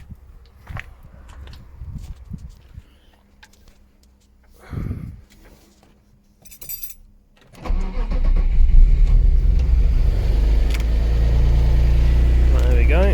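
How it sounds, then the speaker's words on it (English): A BMW 325i E36 track saloon's engine cranks and fires up after a few faint clicks and some talking, then settles into a loud, steady running rumble close by. "now we're going to start the engine."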